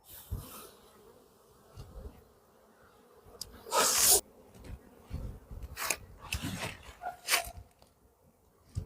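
Honey bees buzz around an opened hive during colony splitting: a low, steady drone with loud close passes as single bees zip near, one especially strong burst partway through. No voices.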